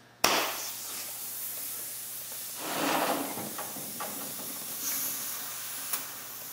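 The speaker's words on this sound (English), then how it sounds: "we're going to add enough air just to pop that bead." Air rushing into a tire on a split combat wheel to seat the bead, a sudden loud hiss starting abruptly, then a sustained steady airflow with a few surging swells and small clicks, close and without talk.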